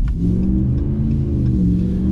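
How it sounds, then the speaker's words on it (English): The V8 of a Ram Rebel pickup truck revs with a deep, steady rumble, close and fairly loud, with slight swells in pitch and no talking. "Just listen to that V8"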